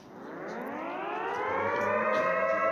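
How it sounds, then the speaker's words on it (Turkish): A siren in the video game Doors winds up in a smooth, steadily rising wail that grows louder over nearly three seconds, heard alone without talk. "Beyler siren çalıyor beyler."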